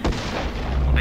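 A single heavy rifle shot in the zombie game Dying Light, a loud close boom with a decaying rumble, with a voice faintly present.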